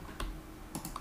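Short burst of typing on a computer keyboard while a password is entered during a Windows 10 software setup, a few quiet close key clicks in quick succession.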